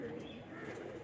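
Kasuri pigeons on a rooftop give a brief, faint, low coo against a soft background murmur.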